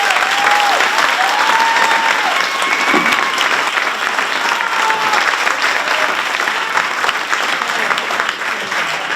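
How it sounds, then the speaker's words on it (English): Sustained applause from an awards-ceremony audience at the NAHS Roosevelt Campus, steady and loud throughout, with a few faint voices and whistles rising over the dense clapping. "Let's give them a round of applause"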